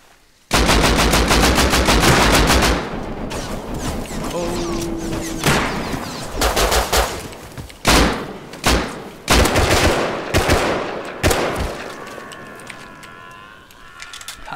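Bursts of automatic and single gunshots from the survival video game Rust crack out in rapid clusters, loud and sharp, separated by short gaps, with some shouting between them.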